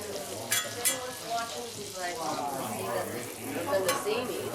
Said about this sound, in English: get the butter sizzling and plop them morels down in there